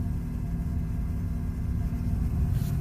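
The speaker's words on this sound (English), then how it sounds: "Rev it up again." A 2016 Nissan Titan with a 5.0 Cummins diesel running in reduced-power mode gives a close, steady, heavy low rumble that barely changes in pitch throughout.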